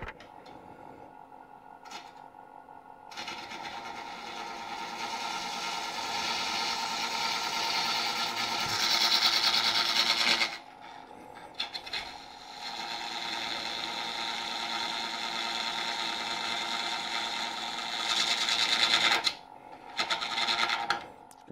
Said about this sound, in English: we're just gonna use a half inch bowl gouge